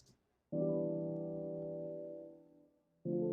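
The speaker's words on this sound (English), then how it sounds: "There's a filter on it, a low pass filter." Muffled, low-pass filtered lo-fi piano chords, dull and warm with the highs cut, one long sustained chord fading before another begins.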